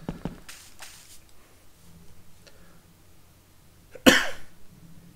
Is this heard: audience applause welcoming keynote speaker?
no